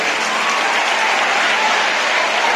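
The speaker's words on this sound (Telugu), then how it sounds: "మీరందరూ ఒకసారి గట్టిగా చప్పట్లు కొట్టారు." Tenth-class students in a hall clap loudly together at a pen distribution event, a thick, sustained burst of applause filling the room from start to finish.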